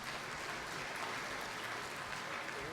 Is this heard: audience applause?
yes